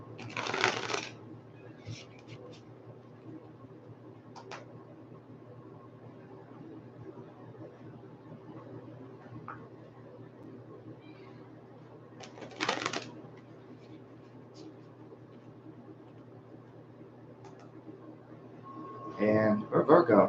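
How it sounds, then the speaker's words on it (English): A tarot deck being shuffled, with brief riffling bursts at the start and middle and a final flurry at the end, separated by long quiet stretches under soft room noise. "You don't got to force this deck to shuffle."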